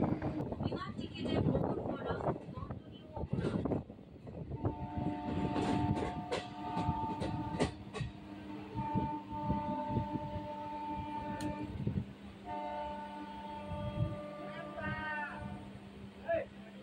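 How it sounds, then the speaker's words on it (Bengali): A local train runs along the tracks between Rishra and Srirampur with a steady rumble and clatter, overlaid by tonal whining and squealing, while people talk over the noise early on. "ট্রেন আবার নিজের গতিতে ছুটে চলেছে।"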